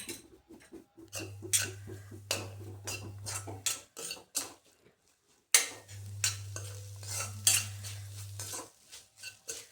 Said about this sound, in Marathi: यामध्ये आपण टाकूयात एक चमचा टोमॅटो सॉस त्याला सुद्धा आपण छान परतून घेऊयात